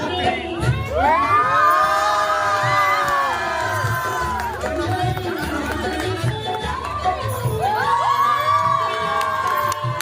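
Guests at a Pahadi hill wedding hoot and cheer loudly, with rising and falling whoops and shouts over lively crowd chatter. The noise continues for the whole stretch and swells again in a second burst of hooting.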